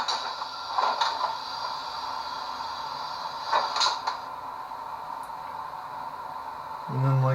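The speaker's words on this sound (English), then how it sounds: "F11 for doors opening and closing." Sound decoder on a Rapido F40PH NPCU cab-car model locomotive with ESU LokSound playing door effects: two mechanical door movements with clunks over a steady electronic hiss and hum, ending with a low rumble.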